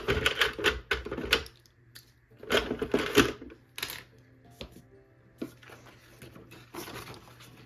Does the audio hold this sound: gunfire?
no